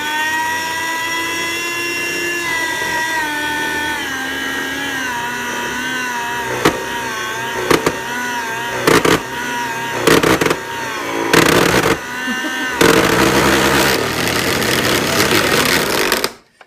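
A motorized blade whirs steadily while slicing pressed pipe tobacco to about an eighth of an inch, with a loud, close tonal drone broken by repeated sharp rasping cuts toward the end.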